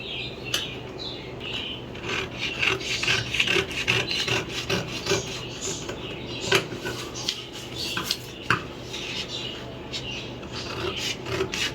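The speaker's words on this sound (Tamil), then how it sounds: "இப்போ இதை கட் பண்ணிடலாம்" Fabric for puff sleeves is cut along marked lines, producing close, continuous rasping and rubbing with intermittent crisp scissor snips and no speech.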